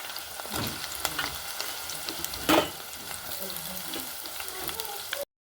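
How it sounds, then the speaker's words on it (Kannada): Onion fries for biryani in Nandini ghee with a loud, close, steady sizzle, crackling throughout and broken by one heavier stirring scrape midway. "ಈರುಳ್ಳಿನ ಒಳ್ಳೆ ಫ್ರೈ ಮಾಡ್ಕೊಳ್ತಾ ಇದ್ದೀನಿ."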